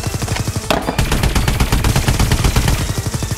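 Rapid, loud machine gun fire in sustained bursts, dense rhythmic cracks running almost continuously with a brief pause near the start.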